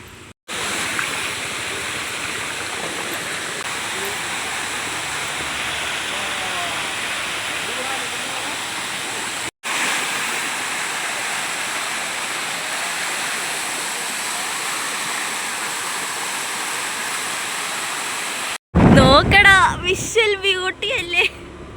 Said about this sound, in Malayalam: അരുവികൾ കുഞ്ഞു കുഞ്ഞു അരുവികൾ കുഞ്ഞു കുഞ്ഞ് വെള്ളച്ചാട്ടങ്ങൾ